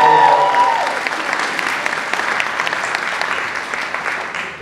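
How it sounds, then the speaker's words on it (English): Loud, sustained clapping and cheering rise from the audience at a film school premiere, a thick continuous roar of many hands that holds steady across the whole stretch. "Make some noise for my man Kyle."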